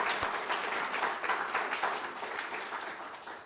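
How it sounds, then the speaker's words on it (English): A school audience at a State of the School address applauds steadily, a dense and even wash of many hands clapping throughout, moderately loud and close, with no voice over it. "Yes, let's applaud."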